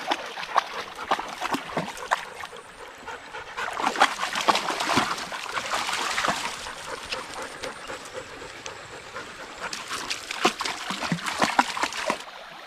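A dog named Bingo splashes and paddles in water, a steady wet churning with bursts of louder splatter throughout, fairly close.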